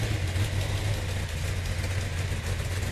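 A Chevy 454 big-block V8 idling on an engine stand, a steady, loud, low rumble with an even lopey pulse throughout, alone with no talk.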